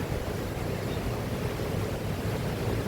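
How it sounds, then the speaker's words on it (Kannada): The Tungabhadra river at Harihar in Davangere district, Karnataka, runs in full spate, giving a steady, dense rushing roar that holds unbroken and loud throughout with no voices. "ಈ ರೀತಿ ಮೈ ತುಂಬಿ ಹರಿತಾ ಇರುತ್ತೆ"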